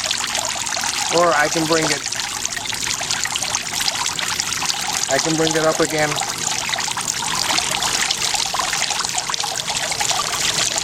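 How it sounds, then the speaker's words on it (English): Water trickles steadily from the pump of a Williamsburg two-tier pineapple garden fountain, a constant close splashing flow, while a person speaks briefly over it twice. "See there how it's a much lower water output"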